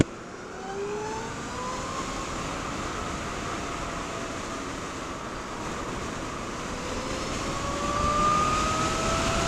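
A 2018 Zero DSR electric motorcycle on the road gives a steady whirring hum with rising and falling whines and strong wind rush, growing slightly louder near the end, with no voices.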